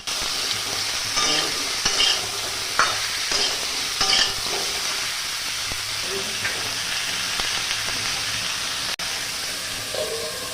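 Pumpkin and potato with salt being stirred in a pan, a steady sizzle and hiss under repeated scraping strokes of a utensil, close and fairly loud, with no voices.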